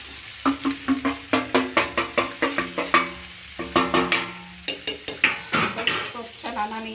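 Eggplant tempered with masala in a pan, giving a busy run of sharp metallic stirring and clinking of utensil against cookware over a low sizzle, close and steady throughout with no talk.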